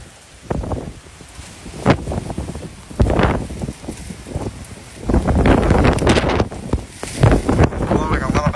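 Extreme wind from Hurricane Ian coming ashore at Garden City, South Carolina, roars and buffets the microphone in loud, uneven gusts that swell and ease throughout, with rustling and surging outdoor noise.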